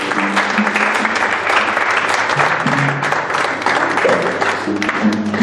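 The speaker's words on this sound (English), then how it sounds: "Don't stop clapping, even if your hand gets red" Sustained applause fills a church celebration service as a congregation keeps clapping while families walk to the front; loud, even, many-handed clapping continues throughout, with faint murmurs beneath.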